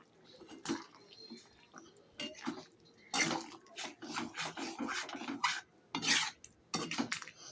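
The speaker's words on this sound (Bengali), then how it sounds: "এবার ভাজা মশলাটা দিয়ে নাড়াচাড়া করব।" Fried spice being stirred into a prawn and potato curry in a pot: scraping, rasping spoon strokes against the metal pan come in irregular close bursts, some louder and longer, with quiet gaps between.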